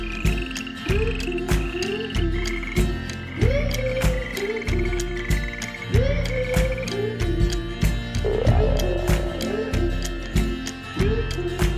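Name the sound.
amphibian calls, frog croaking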